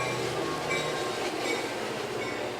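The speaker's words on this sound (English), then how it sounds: "Here's the train. This is it sounds like an express with the clanking of the bell." An express commuter train of about eight cars passes close by near a station, its steady rumble and rail noise filling the scene continuously, with a clanking bell mixed into the roar.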